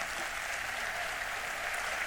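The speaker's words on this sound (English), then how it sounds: "A huge round of applause for Nilarko Pahari." Faint, steady applause from a school audience at an annual concert honoring a student, a distant, even wash of clapping throughout with no voices.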